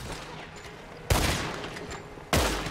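Two loud, sharp gunshot blasts in Red Dead Redemption, about a second apart, each followed by a short echoing tail over quiet ambient background.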